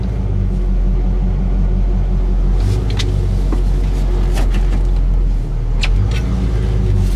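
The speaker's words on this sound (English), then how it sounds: "Listen to how nice this thing idles down." Loud, close idle of a 1968 Oldsmobile Cutlass S 350 V8, a deep steady rumble with a few faint clicks on top and no talk over it.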